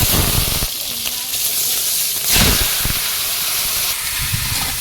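Black cumin seeds hit hot oil in a wok and hiss and crackle loudly, a steady close sizzle with a brief surge partway through.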